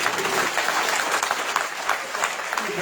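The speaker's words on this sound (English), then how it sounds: "feel free to applaud." A crowd at a gubernatorial debate applauds steadily, a dense wash of clapping that holds for several seconds without pause.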